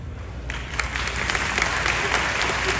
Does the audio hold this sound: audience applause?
yes